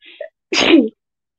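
One abrupt, close sneeze preceded by a quick gasp, standing alone against quiet.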